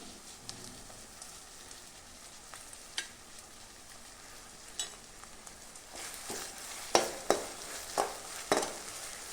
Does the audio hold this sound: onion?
yes